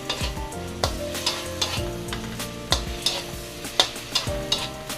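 Food sautés in a hot pan at close range, with a constant sizzle broken by frequent sharp scrapes and clinks of a spatula stirring and tossing, no voices.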